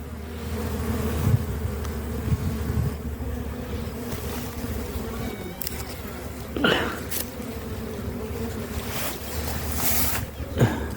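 Constant droning buzz of many honeybees up close at a hive entrance, steady throughout with a few brief knocks and rustles.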